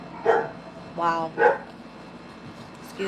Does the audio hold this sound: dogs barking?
yes